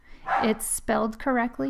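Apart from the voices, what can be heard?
dogs barking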